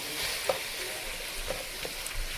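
Tomato paste stirred into a red wine lamb shank braise in a pan, a steady soft sizzle with a few light spoon knocks against the pan, no voices.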